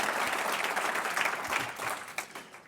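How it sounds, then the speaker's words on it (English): Audience applause at a Hall of Fame induction ceremony, a steady dense wash of clapping from a crowd, moderately loud and continuous for the whole stretch with no talking over it. "You can all clap for them."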